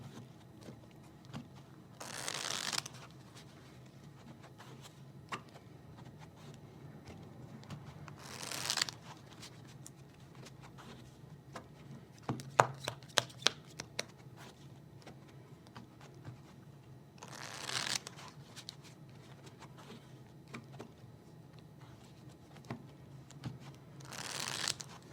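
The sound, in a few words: riffle shuffling a double deck of playing cards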